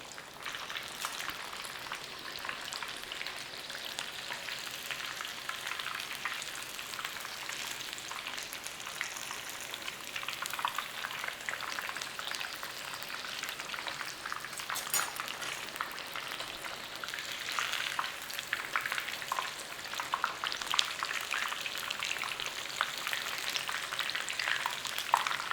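Italian chicken pieces frying in a pan, a steady bright crackling sizzle that runs unbroken and close, growing slightly louder toward the end with no talking.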